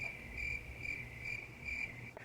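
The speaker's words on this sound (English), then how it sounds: "it was like crickets" Steady crickets chirping in a regular pulsing rhythm, a bright high trill repeating about twice a second over a faint low background hum.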